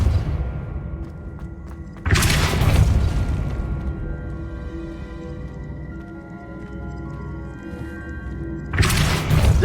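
In the video game Hogwarts Legacy, the Depulso spell lets out a loud booming burst, then a sustained rumbling effect, with a second heavy blast at the end.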